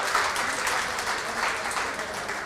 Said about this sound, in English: I would like to ask for a round of applause for all these girls and their hard work and learning about their culture